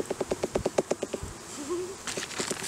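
Honeybees buzzing close by during a powdered-sugar roll test for varroa mites, with a quick run of rhythmic tapping or clicking at the start, then a brief buzz, alone without talk.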